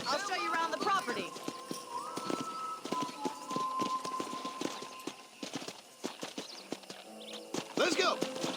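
Rhythmic hoof clip-clops from a horse walking at a steady pace in Red Dead Redemption 2 on PC, close by, with someone talking over much of it and a brief whinny-like call.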